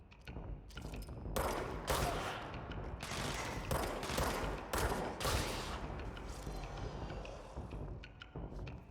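Rapid bursts of gunfire in the action game Control crack out in dense volleys across the span, loud and close, with brief gaps between clusters of shots and no talking.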